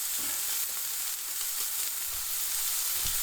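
Aldi Louisiana BBQ steak frying in a smoking pan, a loud, dense, unbroken sizzle close by with faint low knocks.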